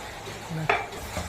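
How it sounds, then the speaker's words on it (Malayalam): Masala tea with milk in a pot, stirred with a spoon: a brief soft swirl followed by a single sharp clink against the pot, close and fairly quiet. "നന്നായിട്ടൊന്ന് ഇളക്കി കൊടുക്കുക."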